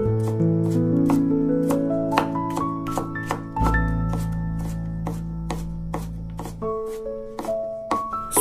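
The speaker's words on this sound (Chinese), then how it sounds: "然后直接给它剁成蒜末" Garlic finely minced with a kitchen knife on a cutting board, a rapid, even run of sharp chopping taps close up, roughly twenty strokes with no voices, while a soft background tone plays underneath.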